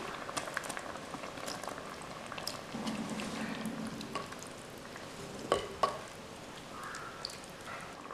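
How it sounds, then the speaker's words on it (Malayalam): Kerala-style prawn curry with drumsticks bubbling in a pot, a steady low simmering gurgle throughout with a couple of louder clinks near the middle, no talk. "ഇതിവിടെ തിളച്ചു വന്നിട്ടുണ്ട്"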